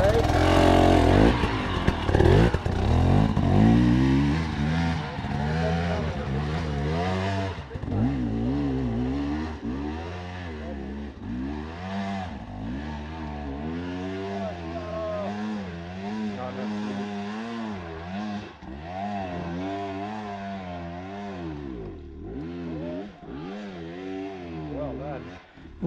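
A dirt bike engine revs hard on a hill climb, rising and falling through repeated throttle bursts at close range for the whole stretch, with people talking over it now and then.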